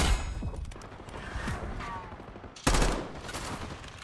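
Black Ops 6 gunfire crackles in bursts, with scattered shots across long-range sniping exchanges and a sharp louder volley near the end, all fairly faint.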